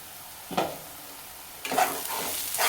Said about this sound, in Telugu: మనకు మంచి అల్లం వెల్లుల్లి పేస్ట్ అయితే మంచిగా వేగిపోయింది కదా